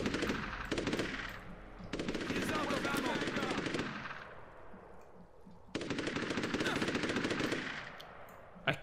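Rapid automatic gunfire in the video game Unearthed: Trail of Ibn Battuta, with two long sustained bursts and a shorter one, loud and dense, separated by brief pauses, with a person talking over it.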